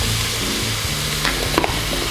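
Leek, patol and chou chou are dropped into a hot pressure cooker, giving a short burst of steady sizzling with a couple of faint clinks and thuds near the end.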